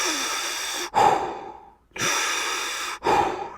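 Deep, slow breaths during a yoga stretch: a long inhale, then a long exhale, another short pause, and a final breath, close and clear with no talking.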